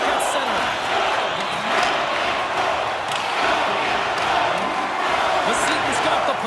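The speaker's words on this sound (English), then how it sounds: "You can feel the energy in this crowd." Ice hockey arena crowd at a Czech Extraliga playoff game between Mladá Boleslav and Vsetín, a loud, dense, sustained roar of cheering under a commentator's voice.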